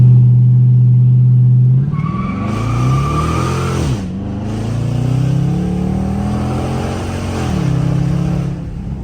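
Dodge Charger RT accelerating hard from 0 to 60 with its wheels spinning, starting from a loud steady idle, then a roaring engine climbing through gear shifts as tires squeal, close and loud with no talk.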